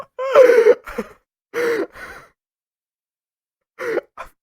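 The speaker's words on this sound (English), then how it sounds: "Excuse me, I'm coughing." A single person coughs and clears their throat in several short, close bursts separated by a long pause, with no other sound around them.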